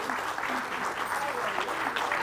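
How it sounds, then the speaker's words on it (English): Audience applause at a civic talk, a dense steady roar of clapping hands that holds at an even, loud level throughout. "If we could give Lisa a big round of applause"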